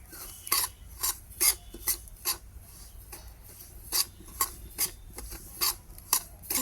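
Semolina being stirred as it dry-roasts lightly in a pan for sweets, a spoon scraping the metal in a steady run of about a dozen rasping strokes, close and clear with no talking.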